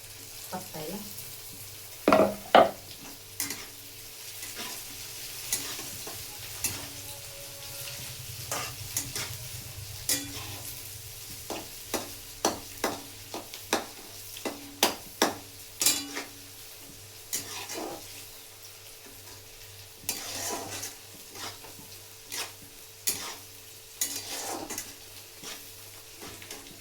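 Curry leaves sizzle in hot oil for a frying tempering for a poha breakfast, a steady low frying hiss under repeated sharp clicks and scrapes of a spoon stirring against the pan, with no talking.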